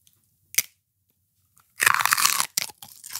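A person bites into crunchy raw celery: one sharp snap, then a loud, close burst of crisp chewing and crunching after a short pause.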